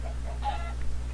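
A chicken clucks a few short times in a blocky survival video game with a medieval server setting, heard fairly close against a steady low hum.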